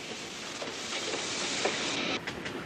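Train rolling along railroad track on the Pittsburgh division of the Pennsylvania Railroad, a steady rumbling hiss with faint rhythmic clicks, heard from moderate distance and fairly constant.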